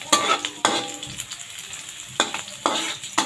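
Ginger and garlic frying in oil in a pan for chicken adobo, a steady sizzle broken by several loud stirring scrapes of a utensil against the pan.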